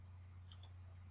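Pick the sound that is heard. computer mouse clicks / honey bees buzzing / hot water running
computer mouse clicks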